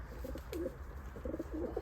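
Low, soft coos from champion breeding pigeons repeat in short rolling bursts, fairly close, over a steady background hum.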